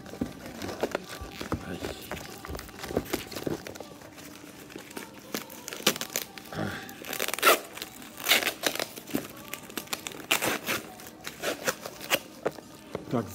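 Paper and plastic crinkle and rip in irregular bursts as a parcel is torn open by hand without knife or scissors, close up, with occasional low voice sounds.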